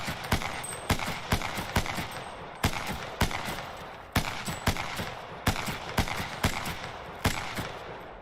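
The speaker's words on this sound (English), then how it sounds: "Now, the P2020, of course, it's just a pistol," P2020 pistol fired single shot after shot in Apex Legends, a steady run of sharp, evenly spaced gunshots with short ringing tails, loud and close with no talking.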